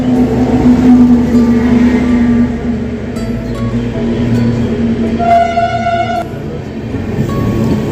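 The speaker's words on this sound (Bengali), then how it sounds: "জলন্ধর স্টেশনে ট্রেন আসছে অমৃতসরে যাওয়ার জন্য।" A superfast train rolls into Jalandhar station, India, with a steady low rumble and rattle of carriages, a brief horn-like tone sounding partway through amid station noise.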